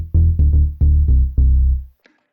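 Playback of a recorded freeform synthesizer jam: five loud, punchy bass-heavy synth notes in an uneven rhythm, each decaying quickly, followed by a short faint blip and then silence.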